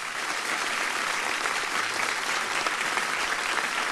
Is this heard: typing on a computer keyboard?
no